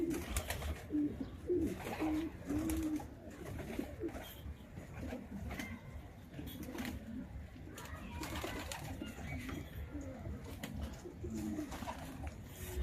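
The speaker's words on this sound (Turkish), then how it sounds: "kuşların yem saati geldi" Pigeons coo repeatedly in soft, rolling calls, several birds close by, with a continuous bed of rustling and low murmuring underneath.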